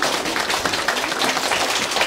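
Applause from a concert audience after the introduction of the Russia ensemble named after Lyudmila Zykina, a dense, steady wash of clapping filling the hall.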